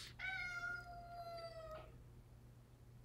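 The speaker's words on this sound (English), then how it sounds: "my cat wants to go outside" A house cat meows once in a long, drawn-out cry wanting to go outside, close and fairly loud in a quiet room, followed by a short sharp click.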